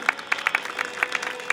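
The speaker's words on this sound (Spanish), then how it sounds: "Pueden darle un fuerte aplauso por esa bonita captura aérea." Clapping from spectators at an outdoor bird of prey and owl show in a garden, a short scattered burst of individual claps at irregular intervals, fairly close and sparse rather than a full crowd.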